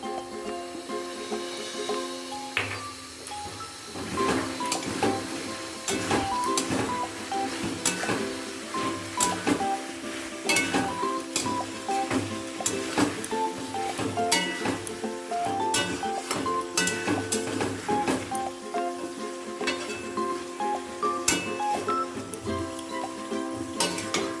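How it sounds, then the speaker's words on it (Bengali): Chicken and ground cumin, coriander and black pepper sizzle in a pan while a utensil stirs and scrapes repeatedly, with clinks of metal against the pan, moderately quiet and steady. "সমস্ত গুঁড়ো মশলা দিয়ে ভালোভাবে কষিয়ে নিয়েছি"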